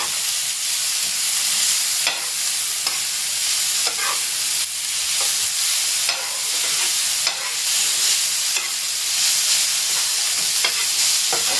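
Boiled noodles with chili powder sizzle steadily in a hot pan. Spatula strokes scrape and stir through the continuous frying hiss at a loose rhythm, close and loud, with no talking.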